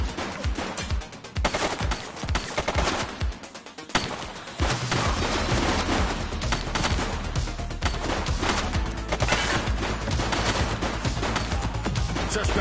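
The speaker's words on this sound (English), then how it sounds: "Shots fired!" Video-game gunfire in The Precinct: a close, loud burst of automatic shots and scattered single cracks, then dense continuous rapid fire that keeps pounding to the end.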